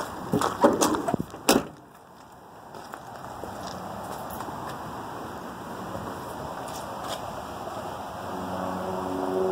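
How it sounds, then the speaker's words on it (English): A classic 1963 Oldsmobile F85 Cutlass door is handled and shut with a few sharp knocks and a solid thud early on, followed by a quiet steady background hum. "I guess I should close this door."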